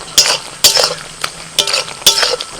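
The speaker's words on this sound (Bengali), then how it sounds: "এবার ভালো করে মিশিয়ে দেবো" A spoon scrapes and clinks against a pan while spices are mixed into a curry, five sharp stirring strokes in quick irregular succession with a faint sizzle between, close and without talk.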